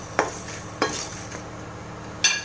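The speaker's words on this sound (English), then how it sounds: "Now I am gonna finally dry roast this mixture" Fennel seeds, pepper, mustard seeds and methi seeds dry roasting in a pan over a low flame, with three short, crisp scraping strokes as they are stirred over a faint, quiet hiss.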